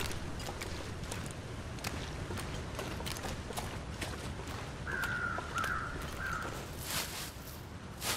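Crows caw in a short, faint burst partway through, set against steady wind-like ambience with intermittent clicks in The Long Dark survival game.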